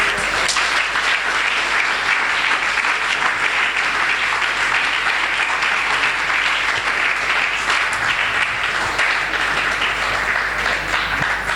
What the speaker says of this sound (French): Il y a des gens qui ont applaudi